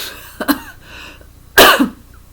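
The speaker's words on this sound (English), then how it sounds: "Why am I coughing?" Two sharp coughs, the first a quick double burst, the second louder and longer a second later, close to the listener with quiet in between.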